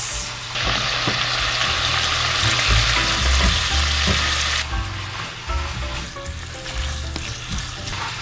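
Duck meat and onions frying in a pan, a loud close sizzle that bursts in and hisses steadily, then drops back to a quieter crackle partway through, with stirring clatter underneath.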